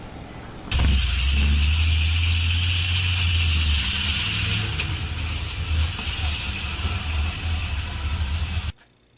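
A car towing a bike and a horse trailer passes close by, a loud steady engine and road rumble that rises abruptly, holds for several seconds, then cuts off.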